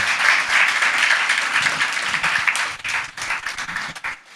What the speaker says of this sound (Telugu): గట్టిగా చప్పట్లు కొడుతూ దేవుని మహిమపరుస్తాం సంఘం